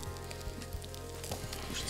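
Food frying in a hot pan gives a steady, close sizzle with a faint background hum and occasional small pops, with no talking.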